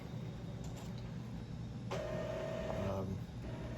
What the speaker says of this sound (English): Wait for my printer to finish printing and prime back up.